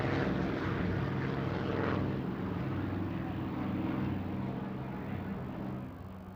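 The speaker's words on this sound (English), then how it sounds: "So we now have Spitfires and Hurricanes airborne to repulse this bombing raid." Spitfire and Hurricane propeller fighters roar overhead at the RIAT 2000 air show at RAF Cottesmore, a loud, sustained engine drone that slowly swells and then fades.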